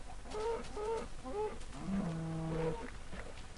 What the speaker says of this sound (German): sind echt prächtige Kühe